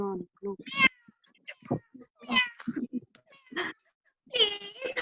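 A human voice imitates a cat's meowing in a storytelling style, with several drawn-out meows interspersed with spoken words.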